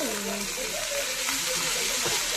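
Cooked rice fries in a pan for an Assamese fish tenga meal, a steady sizzling hiss throughout while a voice talks over it.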